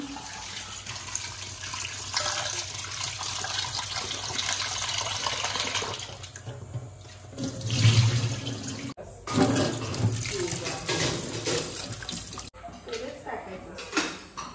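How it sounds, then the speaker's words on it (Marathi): Prawns and fish washed under a running tap for a fish fry, a continuous splashing stream that stops and restarts, heard close alongside people talking. "दोन कोलंबी धुवायला घेतले"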